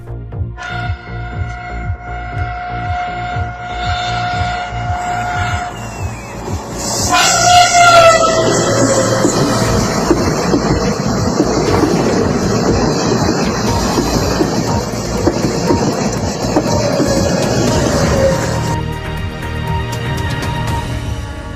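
A train on the Baramulla–Banihal railway in Kashmir sounds a long horn, then rumbles past loudly with steady rolling clatter, and a second horn blast follows near the end.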